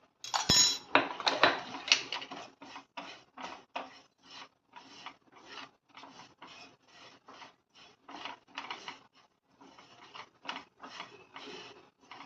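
Dry fennel seeds rasp and scrape against a pan with steady, rhythmic stirring strokes, a louder clatter at the start, then repeated soft scraping.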